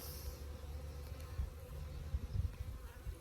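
Honey bees drone steadily around hive boxes in a sunny bee yard, a dense, continuous low buzz with individual insects swelling louder as they pass close.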